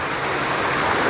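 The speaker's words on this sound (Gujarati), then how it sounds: "અત્યારે તમે પતરાનો અવાજ સાંભળતા હશો" Heavy monsoon rain drums on a tin sheet roof at a farm during sowing season, a dense, steady roar that holds at the same level throughout with no voices.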